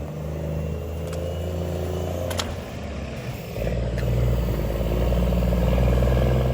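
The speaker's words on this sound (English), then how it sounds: "And there goes the truck." A truck pulls away outdoors, its engine rumbling steadily and building louder toward the end, with some clatter along the way.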